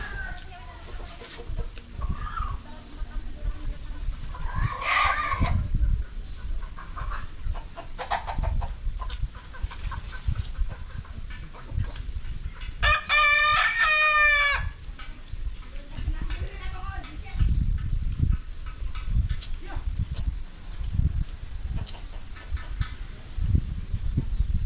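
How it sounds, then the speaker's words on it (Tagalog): A rooster crows once in a loud, rising call midway through, with scattered clucks from farm fowl around it and voices talking over steady outdoor background noise. "Ingay ang manok na to."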